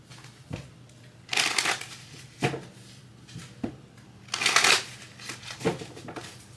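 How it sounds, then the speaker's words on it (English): Crisp riffling bursts of tarot cards being shuffled, several quick shuffles with short pauses between, close and fairly loud, no talking. "Let's go ahead and do another shuffle."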